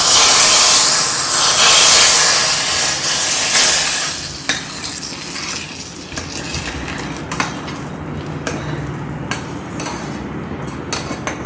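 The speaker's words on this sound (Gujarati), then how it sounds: "હવે આપણે એમાં કઢી પત્તો નાખશું, 2 સૂકા મરચાં નાખશું" Curry leaves and two dried red chillies hit hot oil for a sambar tempering, an explosive loud sizzle and spatter that dies down after a few seconds into softer crackling and stirring.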